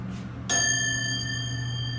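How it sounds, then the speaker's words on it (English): A relay-controlled Westinghouse MPH hydraulic elevator at a shopping mall sounds a single bright arrival bell ding after a low hum, sustaining with a long ringing decay. "Awesome bell."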